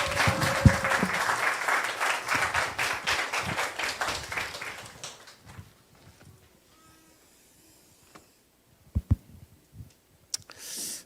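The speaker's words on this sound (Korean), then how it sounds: "우리 나오실 때 우리 환영한다는 뜻으로 박수 한번 칠까요?" Church congregation at a Korean Sunday service applauding to welcome a missionary preacher, a warm burst of clapping that fades out after about five seconds, followed by quiet room noise and a few faint sounds.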